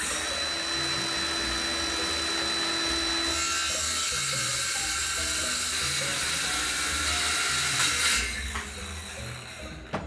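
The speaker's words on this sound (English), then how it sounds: "I'm gonna be using my skill saw" A Skilsaw circular saw cuts through wooden boards in a home workshop, a loud continuous whining rasp that runs for about eight seconds before winding down near the end.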